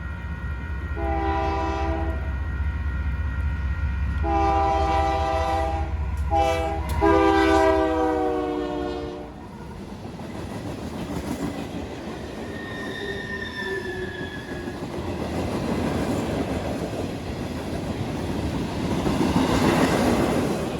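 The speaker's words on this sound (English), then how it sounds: "This second video is also a southbound riprap train, but this time it was taken at Carnadero." A southbound riprap freight train passes at Carnadero, its horn sounding in three long blasts, then wheels screeching and rumbling loudly as cars roll by close, with faint squeals later.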